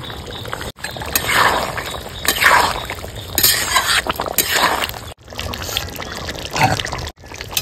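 Whole garam masala poured into a simmering desi chicken curry in a village kitchen, a loud, close rustling pour in several bursts with brief pauses and light clinks.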